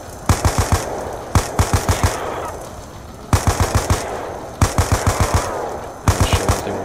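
Automatic gunfire in Call of Duty zombies, heard as five loud close bursts of three to five rapid shots each, separated by short pauses.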